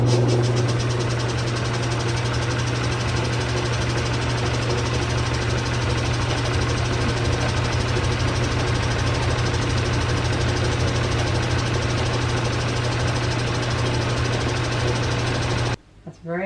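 Homemade Stirling cycle cooler engine running steadily, a loud continuous mechanical hum with rapid rhythmic knocking that holds constant before cutting off abruptly near the end.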